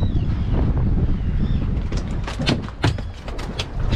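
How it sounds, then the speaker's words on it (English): Breezy wind buffets an open boat on the Chesapeake Bay during a fishing trip, a steady low rumble of gusts across the microphone with occasional brief knocks and splashes, no talking. "Definitely breezy."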